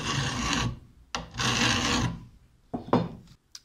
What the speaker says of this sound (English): So now that it's softened, you can see that the file just eats right into it.